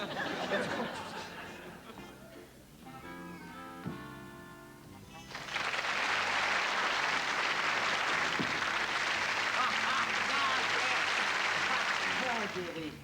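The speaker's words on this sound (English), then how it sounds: "Thank God for the applause" A television studio audience at a magic show applauds after a trick. Talk and laughter come first, then a loud wave of sustained clapping from a large crowd fills the second half.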